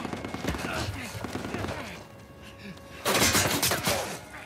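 Gunfire in the Uncharted 4 video game, a dense burst of shots amid shouted voices and music, then a louder cluster of shots near the end.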